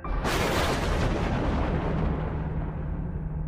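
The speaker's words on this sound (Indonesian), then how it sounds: "Ledakan yang sangat keras terjadi, memecah kesunyian malam." A loud, deep explosion bursts out and then rumbles on, slowly fading as a long low roar.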